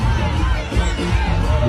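A crowd cheers a man on, a dense continuous roar of many voices, loud and close, with shouting mixed in.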